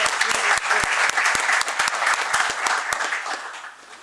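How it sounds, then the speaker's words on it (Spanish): An audience at a book presentation bursts into strong applause for a speaker being introduced, with sharp, distinct individual claps over a fuller crowd clatter that fades somewhat toward the end. "Un fuerte aplauso."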